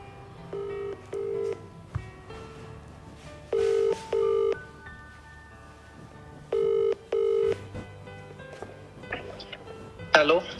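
A phone call is placed: a run of short electronic dialing beeps, then paired ring-back tones repeating in a steady rhythm, thin and tinny as if heard through a handset, ending in a rustle.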